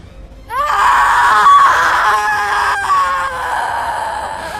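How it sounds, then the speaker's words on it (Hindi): A cartoon ghost lets out a loud, sustained wailing scream that rises abruptly and holds for several seconds, wavering and slowly fading, with no speech over it. "छलावा ने चीख मारी और अगले ही पल धुएं की तरह गायब हो गया"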